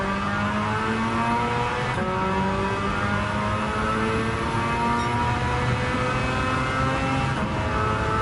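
A Mazda RX-7 with a four-rotor engine swap in Gran Turismo 7, revving hard through rising gears with a loud, buzzing rotary wail and brief drops at each shift, continuous and close.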